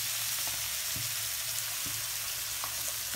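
Chopped onion and green chili sauté in hot oil with a constant close sizzle, broken by a few scraping stirs of a spoon against the pan, no voices present.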